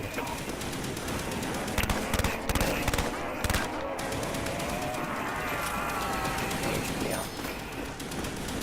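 An HK gun fires in Call of Duty Black Ops Zombies on the Kino Der Toten map, with loud rapid bursts of automatic fire over busy game noise while players talk.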